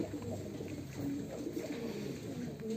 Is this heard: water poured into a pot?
no